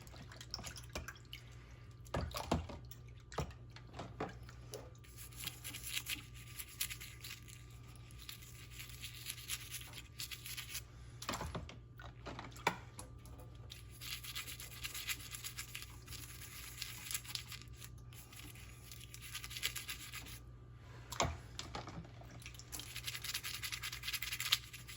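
Lake Superior rocks are scrubbed and rinsed with Dawn dish soap, giving soft scratchy rubbing and scattered water drips and splashes, quiet and close, with irregular bursts of scrubbing over a faint background hum.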